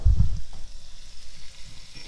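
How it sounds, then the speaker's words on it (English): Onion hitting chicken fat and browned fond in a pot, a few thuds at the start followed by a soft, steady sizzle close by. "I am going to cook my onion in that"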